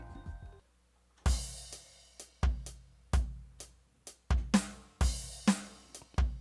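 A punchy programmed drum rhythm fill from a BOSS RC-5 looper pedal, with deep kicks and bright cymbal hits, repeats steadily after a short opening note, with no voices.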